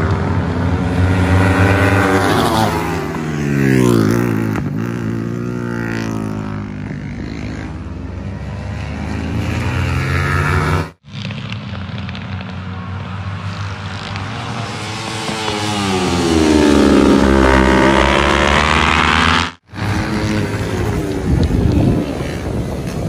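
Go-karts race around a kart track, their engines whining up and down as they pass near, then fade. Revs rise and fall across several loud passes, with two brief gaps.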